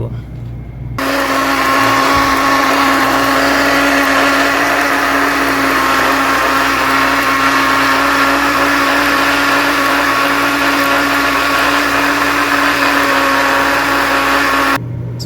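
A kitchen blender grinding onion, tomato and garlic into paste for a fish curry, one loud continuous whirring roar held steady for about fourteen seconds, starting and stopping abruptly, close up with no talk.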